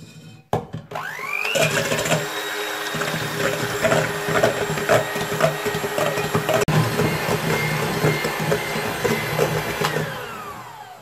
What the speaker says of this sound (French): Très important, il faut qu'elle soit bien froide. Et on va commencer à fouetter.